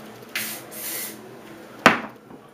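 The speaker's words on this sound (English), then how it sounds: "I'm just going to take my styling product, spray it" Two short hissing sprays of hair styling product, the first a soft longer burst and the second a sharper, louder puff, close by in a quiet room.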